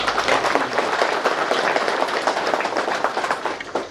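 Crowd at a political rally in the Tura constituency breaking into sustained applause, dense clapping from many hands that carries on steadily and tapers slightly at the end, with no talk over it.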